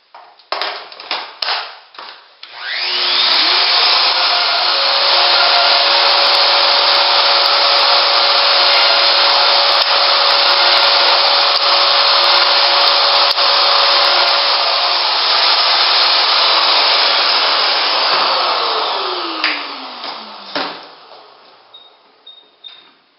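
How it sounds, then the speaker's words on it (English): A Festool LR32 system drills shelf pin holes into cabinet side panels, giving a loud, steady whining power-tool roar that holds for about sixteen seconds, then winds down, with scattered clicks and handling noises before and after. "Cabinet sides drilled out for my adjustable shelving and for my hinge plate"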